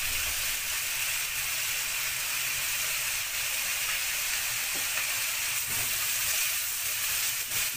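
Minced ginger and garlic frying in a pot with spiced onions for Moroccan beef with prunes, giving a steady, even sizzling hiss throughout with a few faint clicks, no voices.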